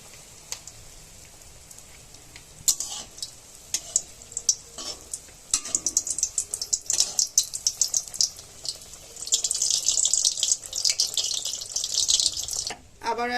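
Semolina pitha fries in hot oil in a wok with a steady, bright sizzle that swells and grows denser as the batter goes in, close up, with occasional stirring and utensil clinks.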